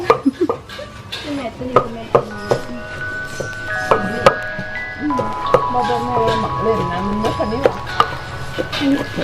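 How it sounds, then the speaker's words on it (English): Garlic and shallots are pounded together in a mortar at a Lao cooking class in Luang Prabang, giving repeated dull thuds at an irregular pace while people talk and a few tonal sounds play in the background. "Here is garlic and shallots, and pounding them together."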